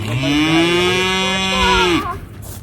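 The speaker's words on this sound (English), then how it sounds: "I'm gonna bring the cows over where Gary's at" A single long, loud moo from a cow nearby, a deep drawn-out bellow that fades at the end.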